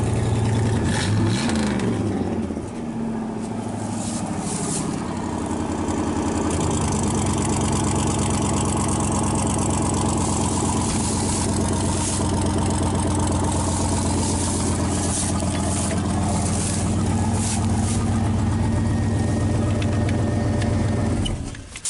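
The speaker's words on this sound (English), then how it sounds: "So she starts up and runs good, drives good, it's dependable." A hot rod car engine cranks briefly, catches and settles into a steady, loud, close rumbling idle that holds for about twenty seconds, with no talk over it.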